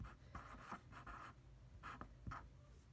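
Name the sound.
writing on a board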